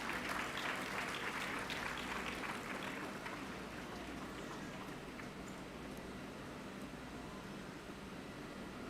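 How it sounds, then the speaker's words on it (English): An audience at a university convocation claps in sustained applause, loudest at the start and gradually thinning to a softer, steady patter, heard from within a large hall. "A loud applause, please."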